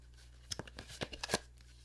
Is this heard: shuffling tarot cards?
yes